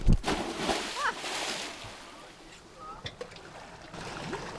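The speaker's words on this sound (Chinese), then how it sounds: "随着浪花的溅落，于向坤潜入了海底。" A diver plunges into the sea, sending up a short splash at the start, followed by sloshing water and faint wave noise, with no voices.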